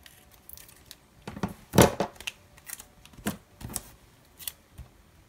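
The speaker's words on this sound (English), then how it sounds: "I'm going to cut a little bit off." Scissors cutting a sticker sheet: a few soft, quiet snips and paper crackles, with one sharper cut standing out.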